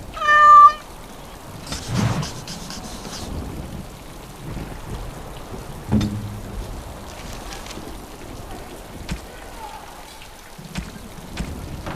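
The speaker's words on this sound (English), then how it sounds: "Is that okay with you, kitty?" A single short cat meow opens the scene in Dragon Age: Awakening, close and clear, followed by soft rain, scattered ambient thuds and faint background sounds.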